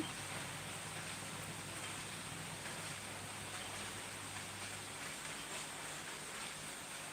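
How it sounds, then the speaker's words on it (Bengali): Light drizzling rain falls steadily outdoors, a soft continuous hiss with a faint low hum underneath, with no talking. "ঝিরিঝিরি বৃষ্টি পড়ছে"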